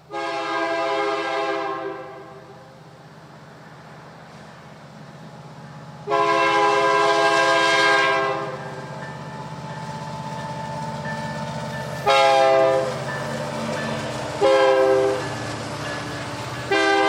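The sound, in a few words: northbound mixed freight train passing with horn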